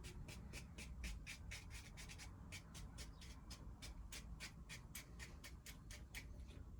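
Rapid rhythmic rubbing strokes as a cloth scrubs surfaces inside an Audi A6, close and steady, with no talking.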